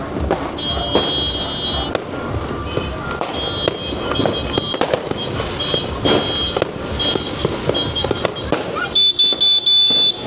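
New Year's fireworks crackle and pop in rapid bursts, loud and close, with sharp bangs scattered throughout and a beeping alarm-like tone at times.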